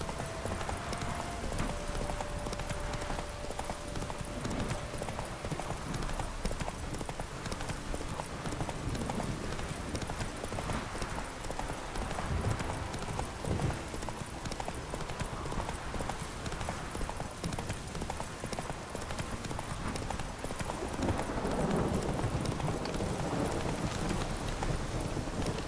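A horse gallops through a forest in The Witcher 3, its hooves clip-clopping in a steady, continuous rhythm at moderate loudness over a soft game ambience.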